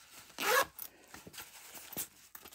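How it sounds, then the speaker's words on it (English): A zipper runs along the pocket of a crossbody purse. One quick, close rasping pull is followed by a few lighter scrapes and handling rubs. "You have a zipper pocket here"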